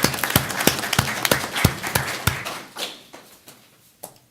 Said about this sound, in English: a round of applause and congratulations to Christie.